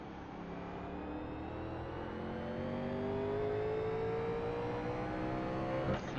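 A 1987 NASCAR race car in iRacing pulling away under smooth throttle at Martinsville, the engine note rising steadily in pitch as it climbs through the revs, loud and continuous.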